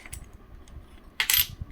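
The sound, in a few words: coin being handled or dropped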